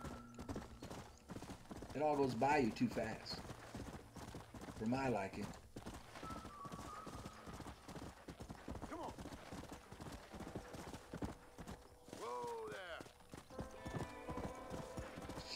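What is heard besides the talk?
horse galloping hooves in video game Red Dead Redemption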